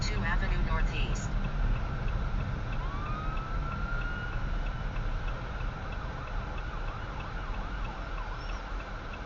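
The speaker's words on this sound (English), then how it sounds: "Two fire trucks and ambulance." Wailing fire truck and ambulance sirens sweep up and down across a noisy road background in Calgary, the tones rising and falling repeatedly at a moderate distance.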